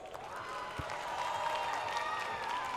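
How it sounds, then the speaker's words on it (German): An award ceremony audience at a convention gives sustained applause, a dense wash of clapping with crowd noise that holds steady throughout with some voices mixed in. "Applaus!"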